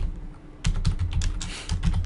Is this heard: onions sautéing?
no